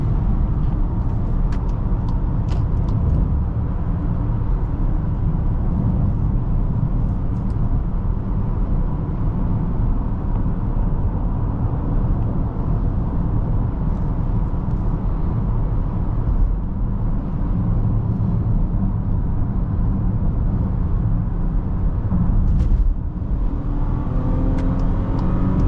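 A 2023 VW Atlas SE V6 SUV cruises on the road, heard from inside the cabin as a loud, steady low rumble of engine, tires and wind with little variation.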